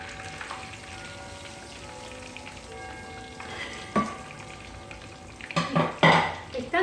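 A stuffed meat milanesa frying in a pan of oil, a steady crackling sizzle that swells as the cutlet is turned, with spattering bursts and utensil scrapes toward the end.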